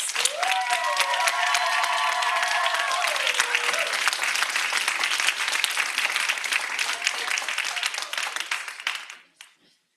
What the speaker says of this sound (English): applaud these kids for being here